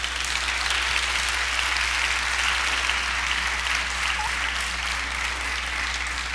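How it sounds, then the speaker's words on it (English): Church congregation clapping in praise, a dense, even wash of many hands applauding steadily at moderate distance, with no voices over it and a faint low hum beneath. "Give God a hand clap of praise"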